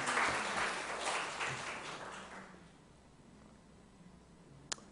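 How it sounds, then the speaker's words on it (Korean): An audience in a church lecture hall claps in a dense burst that gradually thins and fades out, ending with a single sharp click. "큰 박수 한번 보내십시오"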